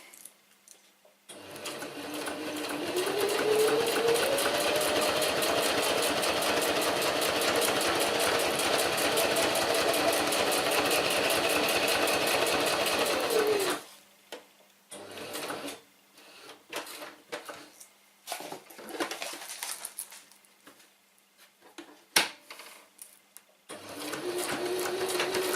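A sewing machine stitches a Cordura diddy bag in a fast, steady mechanical whir for about twelve seconds, then runs in short stop-start bursts separated by pauses.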